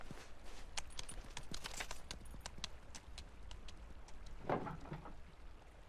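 Horse hooves walking through heavy snow in the video game Pentiment, a steady series of soft, muffled clip-clop steps at a moderate distance, with no voices.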